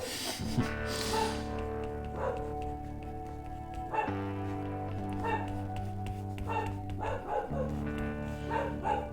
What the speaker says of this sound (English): I apologize if you can hear my dog barking now.